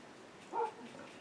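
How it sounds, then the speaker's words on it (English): Patsy the dog lets out one short, muffled yelp or whimper indoors, brief and moderately loud over quiet room noise. "that's Patsy the dog"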